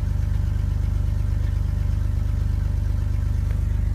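A Chevrolet Blazer engine idles high and steady with the air conditioning on, a loud low rhythmic throb pulsing evenly throughout as it strains toward 1,000 RPM, with no voices.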